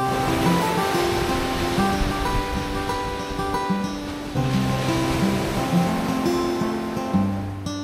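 Ocean surf at a beach rolls in a steady, continuous wash of waves, under a layer of sustained musical tones.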